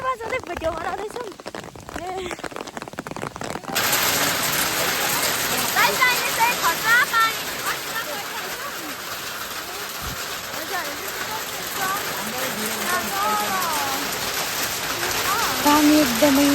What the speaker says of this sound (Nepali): पानी एकदमै ठुलो पऱ्यो